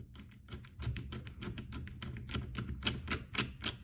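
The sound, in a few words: keycaps being pressed onto IBM Model M keyboard key stems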